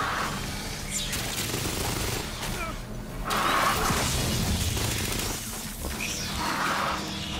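Submachine gun fire in the sci-fi shooter Aliens: Fireteam, with sustained loud bursts of automatic shots and whooshing impacts layered over dense game noise and effects.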